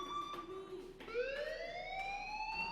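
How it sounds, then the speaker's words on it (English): A fire alarm in the video game Life is Strange wails through a school building, a steady electronic tone that slides upward and holds, loud and continuous with no voices over it. "Hey, do you hear that fire alarm?"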